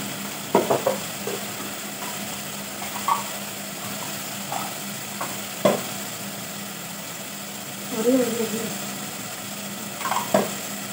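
Chicken frying with coriander, red chilli and turmeric for a chicken cauliflower curry, a quiet sizzle under repeated clinks and scrapes of stirring in the pan.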